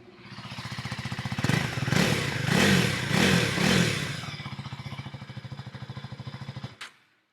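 A Husqvarna motorcycle, either a Vitpilen 250 or a Svartpilen 401, idles with a steady, throbbing exhaust beat, rises through several short blips of revving in the middle, then settles back to idle and cuts off near the end.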